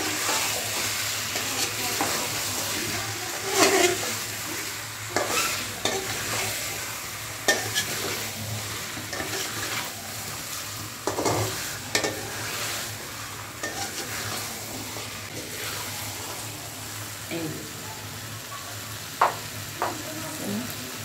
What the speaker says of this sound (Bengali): এবার দিয়ে দিচ্ছি আমি আলু, আলু দিয়ে আর একটু কষিয়ে নেব।